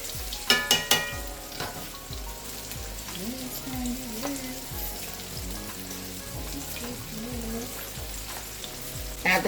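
An old jalapeno frying in hot grease, crackling and sizzling steadily, with a few sharp pops and clatters near the start and a melodic tone running underneath.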